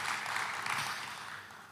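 Applause from a church congregation during a Sunday worship service, a steady continuous clapping wash that stays fairly even for nearly two seconds before easing slightly.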